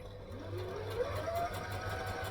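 A sewing machine stitches in the ditch along a skirt seam with a steady, even whirr that continues without a break. It is moderately close and sounds alone.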